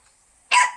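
A single short, sharp bark from a dog close by, after a near-silent pause.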